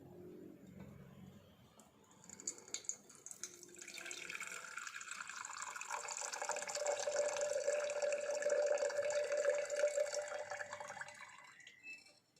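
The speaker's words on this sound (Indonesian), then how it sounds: "Kita bilas lagi pakai ini air biasa ya." Tap water runs steadily into a vessel to rinse gold precipitate settled after copper cementation, a soft gushing fill that builds and holds for several seconds before stopping, with no talk.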